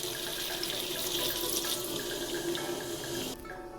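Water pours steadily into a pan of potato and flat bean curry, a close, even splashing rush that cuts off abruptly near the end.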